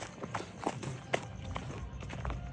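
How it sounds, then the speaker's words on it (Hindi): Footsteps of someone running or hurrying along a path thud and scuff in an irregular series of close impacts, with a low rumbling background. "ये पैरों की आवाज आ रही है"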